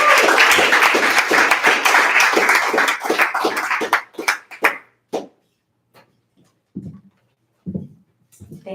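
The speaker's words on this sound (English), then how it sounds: "let's give Kathryn a round of applause" An audience at a poetry reading night claps warmly for a reader, dense applause for about four seconds that thins into a few scattered claps before quiet, with small noises after.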